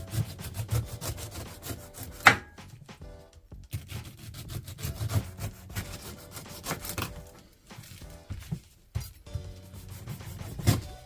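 A knife scraping and rasping as it peels the tough skin off a washed pineapple, with repeated rough strokes and brief pauses, close and fairly quiet.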